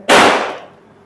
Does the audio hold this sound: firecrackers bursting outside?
yes